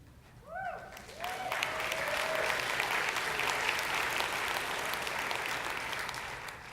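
Audience applause at a Bioneers talk, swelling quickly after a few short tones and holding as a broad, steady wash of clapping for several seconds before easing slightly.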